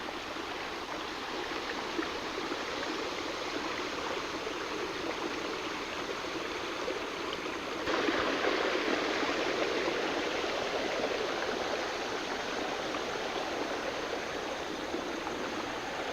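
Creek water flows in a steady, continuous rushing babble, close and fairly loud, growing slightly stronger partway through, with no voices over it.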